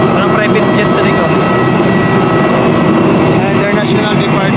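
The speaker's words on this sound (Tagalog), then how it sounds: "Jet sa likod." At Abha airport, a jet airplane engine roars steadily and loudly nearby, a dense continuous whine and rumble that swamps everything else for the whole stretch.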